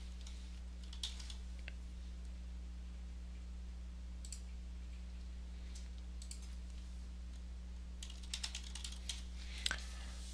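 Patient information is typed on a computer keyboard in an electronic health record program, giving sparse, quiet clusters of key clicks over a steady low hum, with bursts near the start and toward the end.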